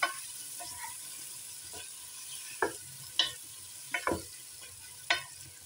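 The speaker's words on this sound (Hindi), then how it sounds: "टमाटर के पानी में ये मसाला भुन जाएगा।" Spices sizzling in the juice of chopped tomatoes, with potatoes, in a pan for an aloo tahari lunch dish: a soft steady fry with several sharp scraping stirs of a spoon against the pan, close, with no voices.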